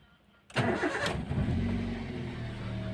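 A 2008 Daihatsu Terios TX with manual transmission starts up, its starter catching abruptly after a quiet moment, then the engine settles into a smooth, steady idle, loud and close with no talking.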